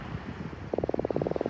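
A croaker fish (corvina) caught at night on a beach in Uruguay gives a quick run of rhythmic croaking pulses, close and fairly loud, after soft wind and handling noise.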